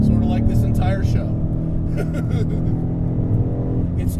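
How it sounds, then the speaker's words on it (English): The Coyote V8 of a modified full-bolt-on 2015 Ford Mustang GT rumbles loudly and close, with a low throbbing drone under people talking over it. "this Coyote engine has such a fat mid-range punch"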